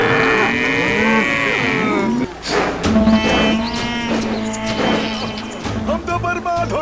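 Cartoon cows and bullocks on a farm field let out several long, loud moos that overlap one another. Brief voices are heard alongside the animals.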